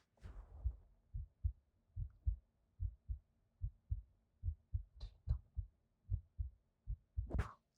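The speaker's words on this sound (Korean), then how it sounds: "내 심장 소리 너무 징그러워요." A heartbeat picked up close to the microphone thumps softly in a steady double-beat rhythm, about a dozen beats in all, over quiet background with a couple of faint rustles and brief noises near the end.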